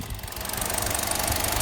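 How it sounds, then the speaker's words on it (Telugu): A 2023 Hyundai Creta 1.5 petrol SUV idles with the bonnet open, giving a steady, smooth low engine hum with a faint ticking texture throughout. "ఇంజన్ సౌండ్ చెక్ చేసుకోవచ్చు. ఇది పెట్రోల్ వర్షన్."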